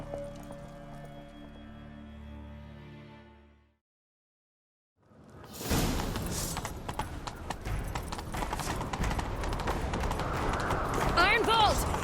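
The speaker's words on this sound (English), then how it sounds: "Grab a horse, we'll chase him down." Hooves clatter in a fast, even gallop as a horse is ridden in The Witcher 3, loud and steady under game music and effects, after a short stretch of speech and a moment of silence.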